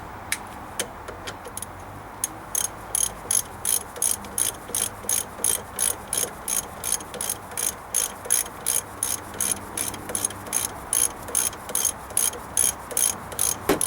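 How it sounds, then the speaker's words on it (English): A hand ratchet turns a locking sway bar link nut on a 1995 Dodge Ram 2500, giving a long, even train of sharp close clicks in steady rhythmic strokes, with no voices. "Take our ratchet."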